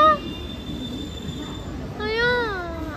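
A train runs on rails between Mumbai and Pune, rumbling steadily with high metallic wheel squeals that whine and waver, loud and close.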